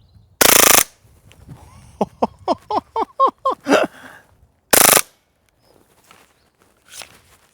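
A Novritsch SSP28 airsoft pistol fires a rapid burst of about a dozen sharp, evenly spaced shots up close, with two loud bursts of noise just before and after it.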